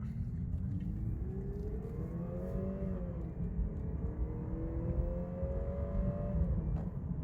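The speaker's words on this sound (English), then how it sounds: "This car has fake engine noises." A 2019 Lexus IS 300 F Sport engine hums and rises in pitch as it accelerates at full throttle, a steady synthetic-sounding drone from artificial engine sound swelling twice over a low rumble, with no talking.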